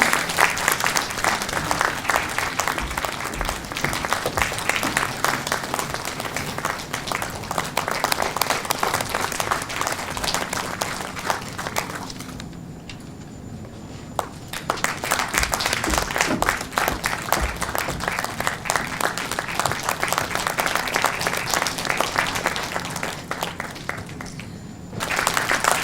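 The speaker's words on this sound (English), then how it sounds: "Keep on clapping, ladies and gentlemen." Loud, continuous audience applause fills an auditorium during an address, many hands clapping in a thick steady roar that dips briefly midway and again near the end before resuming.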